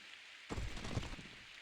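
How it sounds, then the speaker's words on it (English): Rain pours over a battlefield in the video game Fire Emblem: Path of Radiance, opening on faint hiss before a fuller, denser wash of rain with a low rumble sweeps in and holds, no talk. "it is raining on the battlefield"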